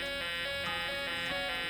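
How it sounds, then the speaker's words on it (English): A carbon monoxide detector alarm going off in a house, sounding a steady series of loud, repeating electronic buzzing beeps at an even pulse, with no talking. "The alarm goes off on his box."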